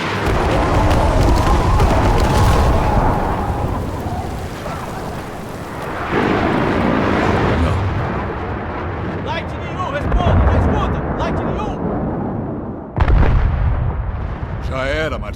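Jet airstrike bombs exploding in the video game Battlefield 6, a run of heavy booming blasts and rolling rumble with a few sharp cracks, loud and close, fading and then bursting again near the end.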